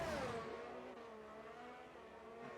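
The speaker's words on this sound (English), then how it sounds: "as we watch Justin Janssen around the final corner to begin his final flying lap in the Williams" A Williams Formula 1 car in a racing video game, rounding the final corner at Silverstone onto a flying lap on soft tyres. A steady, loud high-pitched engine whine with a falling pitch sweep at the start, with no talk.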